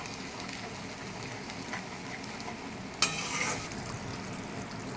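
Spices sautéing in hot oil for jackfruit kofta, a steady soft sizzle and crackle with occasional stirring scrapes and one brief sharp clatter midway, no talking.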